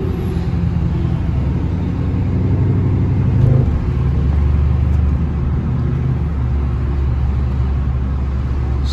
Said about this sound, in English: It's cool, y'all had this exhaust music.